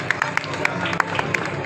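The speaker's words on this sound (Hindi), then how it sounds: "भोले ताली बजाओ एक बार जोरदार।" A crowd at a Hindu devotional discourse on the glory of Ram's name breaks into loud, brisk clapping, with sharp individual claps rising above a dense wash of hands.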